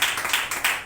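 A worship congregation claps in unison at a Sunday church service, a quick, even rhythm of sharp claps in a roomy space.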